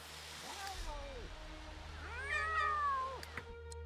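Cat meows from the Sims 3 life-simulation game, several drawn-out, rising and falling cries spread across the clip over a steady low game hum, with one longer, louder wail near the end.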